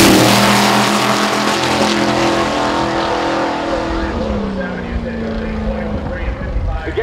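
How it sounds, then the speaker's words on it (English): A supercharged 1966 Chevelle drag car launches hard with its rear tires spinning, a loud engine roar and tire noise sweeping up in pitch and then fading into the distance while a commentator talks over it. "Obolensky just wipes the tires out the back."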